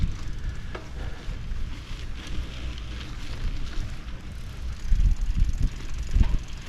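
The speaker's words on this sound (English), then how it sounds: "we're just going to go for a little bicycle ride around" A bicycle rolls around a Florida state park campground, tires crunching and rattling over the ground with steady low rumble and a few heavier bumps near the end.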